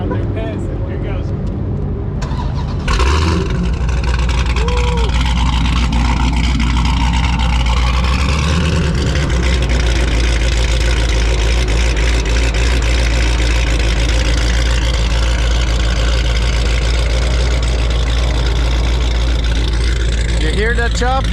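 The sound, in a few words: supercharged 426 Hemi engine with big cam idling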